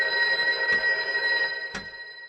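A telephone rings in Loretta, a bright steady electronic tone broken by two short clicks and sustained at a fairly loud level without any talk.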